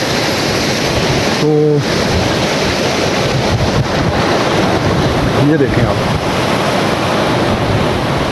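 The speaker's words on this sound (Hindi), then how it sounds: "पानी का बहाव बहुत तेज़ है क्योंकि बर्फ़ का पानी है" Fast, snowmelt-fed river in the Mundi valley, a loud, steady broadband roar of rushing water close by that fills the whole clip, with someone briefly speaking over it.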